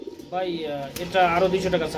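Pakistani beauty pigeons at a farm coo in soft, repeated throaty phrases, with one bird's call close and others overlapping, continuing steadily for about two seconds.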